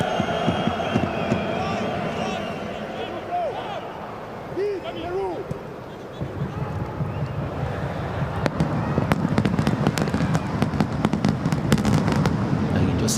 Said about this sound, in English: You can just hear some fireworks in the background.